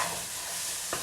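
Chicken pilau rice with celeriac cooking in a pan on a stove top, giving a quiet, steady sizzle with a brief stirring scrape near the end and no voices.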